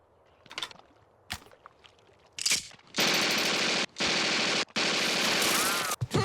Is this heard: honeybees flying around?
no